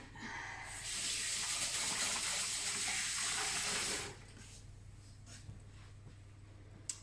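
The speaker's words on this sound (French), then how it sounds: "Je vais me rincer les mains." Water from a kitchen tap runs steadily for about three seconds as hands are rinsed at a sink while baking a carrot cake, then shuts off, leaving quiet room tone with a few small clicks.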